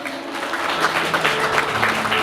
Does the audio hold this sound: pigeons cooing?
no